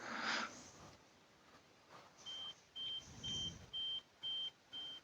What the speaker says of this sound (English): The car alarm goes off,